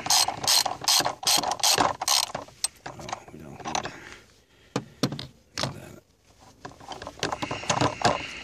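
Ratchet wrench loosening the battery terminal bolt on a VW Passat in winter, rapid bursts of close metallic clicking in uneven runs with short pauses.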